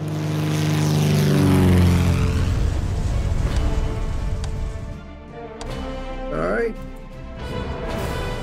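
Propeller aircraft engine droning in the WW2 strategy game Order of Battle during an Operation Torch naval battle, a steady loud hum with gunfire and combat effects layered over it, while a player talks throughout.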